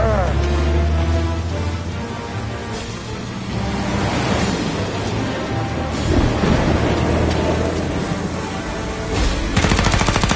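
Gunfire in a Mafia: Definitive Edition shootout, repeated loud gunshots and bursts under a rumbling, rain-like wash, with voices shouting in places and a rapid volley near the end.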